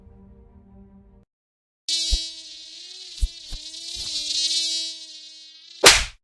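Insects buzz close and loud, a high, droning whine in the manner of mosquitoes or flies that wavers steadily for several seconds. Soft taps break in along the way, and a brief burst of noise ends it.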